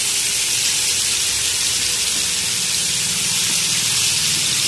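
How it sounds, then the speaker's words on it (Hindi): Beef reshmi kababs shallow frying in oil over medium heat, a steady, loud, close hiss and sizzle that continues unbroken throughout. "तो चलें आइए इनको शैलो फ्राई कर लें"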